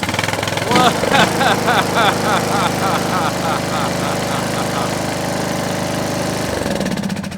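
Briggs and Stratton riding mower engine fitted with a replacement carburetor, air filter and cover off, catches after a few rough cranking beats and settles into a loud steady run close by.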